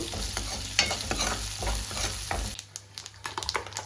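Garlic cloves frying in hot tempering oil for a green chilli and tomato chutney, a steady close sizzle broken by scraping stirs, fading near the end to quieter clicks and taps.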